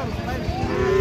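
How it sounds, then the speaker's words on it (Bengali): A cow at a cattle market in Naogaon, Bangladesh, lets out a single close, drawn-out moo that fills the whole moment, with low crowd murmur behind it. "এখানে আরেকটি গরু"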